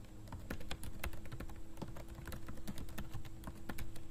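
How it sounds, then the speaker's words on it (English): Typing on a computer keyboard, a quick irregular patter of light plastic key clicks heard close and steady, with no talk over it. "you just type in some very basic information like your first name, last name,"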